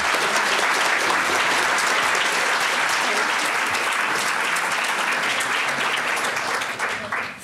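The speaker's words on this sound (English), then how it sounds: "a bit round of applause" A conference audience applauds the speakers after a panel discussion. Dense, steady clapping fills the room for several seconds, then thins and fades at the end.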